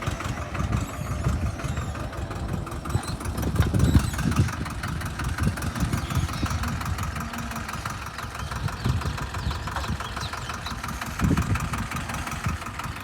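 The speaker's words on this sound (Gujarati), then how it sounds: "આ છે આપણું ટ્રેક્ટર." A broken-down tractor sits in a farm field with its engine idling, a steady low, chugging rumble heard up close with slight uneven knocks, continuous throughout and without talk.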